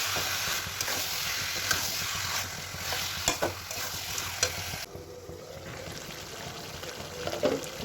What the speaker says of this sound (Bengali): চাপা দিয়ে দিয়ে কষা চলছে মটনটা।